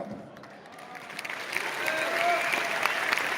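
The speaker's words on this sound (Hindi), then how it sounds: "और इन लोगों की तालियों से इस बात का एहसास होता है कि आपके लिए ये आत्मा से, दिल से ताली मार रहे हैं" An audience claps for Anupam Kher at a speech during the RCM transformation journey event in Delhi, the applause starting thin and building into a fuller, steady crowd clatter, with some voices mixed in.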